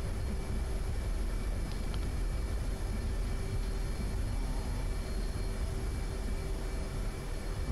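F/A-18C jet in DCS World braking on the runway after landing, a steady, broad engine and rolling roar with a faint tonal whine, continuous and unbroken.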